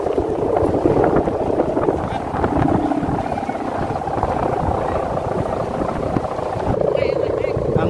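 Wind gusts and buffets the microphone outdoors at a kite-flying contest, a rough, rumbling roar that rises and falls continuously with voices faintly mixed in.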